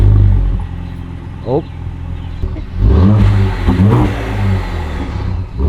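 Four-wheeler quad engine fitted with a new loud exhaust pipe, revving in short bursts that rise and fall close by, with voices talking over the idling and throttle blips.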